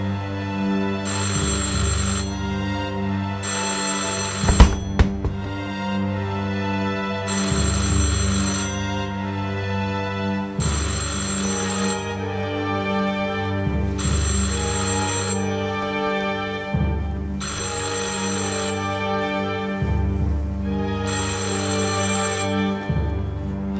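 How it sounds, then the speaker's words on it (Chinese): An old telephone bell rings loudly in about seven regular bursts, each lasting roughly two seconds with short pauses between, alone without any talk and with a single sharp knock partway through. "那平时电话铃响，谁接电话？"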